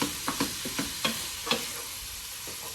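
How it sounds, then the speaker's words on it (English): Food sizzles in a Pioneer Woman frying pan while being stirred, a continuous frying hiss broken by repeated scraping strokes of a utensil against the pan, close and clear with no talking. "I'm going to let all of this just cook in together and get nice and brown for me"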